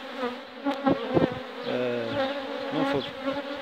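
Honeybees buzzing around an open beehive as frames are handled, a close, steady droning hum with shifting pitches and a few sharp knocks.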